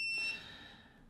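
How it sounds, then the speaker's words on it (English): A multimeter continuity tester beeps on a backplane ground line for a Z80 homebrew computer, giving one short steady electronic tone that starts at once and then drops away. "ground here should beep"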